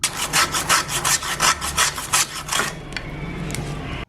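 Fresh ginger is ground in a hand grinder, giving fast rhythmic rasping scrapes, about a dozen strokes close and crisp, before the grinding stops and a quieter pause follows.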